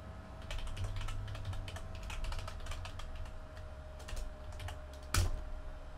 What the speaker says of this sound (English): Open up your web browser and type in ethereumwallet.com.